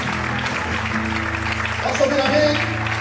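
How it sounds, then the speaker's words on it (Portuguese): A church congregation claps during an evangelical service, a steady moderate patter running under a speaking voice and a sustained keyboard chord throughout. "Você pode aplaudir o Senhor nessa noite?"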